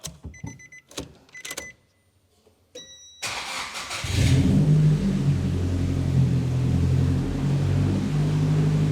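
A few clicks and mechanical sounds, then a starter cranks and a Nissan Silvia S15's SR engine catches, roaring up and revving before settling into a loud, steady run.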